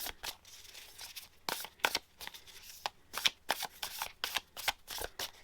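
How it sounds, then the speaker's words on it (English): Quick bursts of tarot cards being riffled and shuffled, a dense papery flutter repeating in short irregular rounds, close and fairly soft. "Get some extra shuffling in here."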